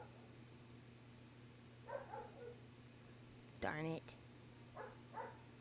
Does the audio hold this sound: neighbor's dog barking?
yes